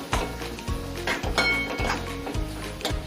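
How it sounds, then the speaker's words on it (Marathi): Ground spices such as coriander powder, turmeric, cumin powder and a pinch of asafoetida are sautéed in a pan, with a close, repeated rhythmic clank and scrape of a spoon stirring against the metal. "आता मी याला व्यवस्थित परतून घेणार आहे।"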